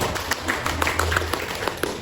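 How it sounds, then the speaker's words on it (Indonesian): Hands clapping in a classroom, a quick run of light, sharp claps at moderate level over a faint background murmur. "Oke, tepuk tangan dulu."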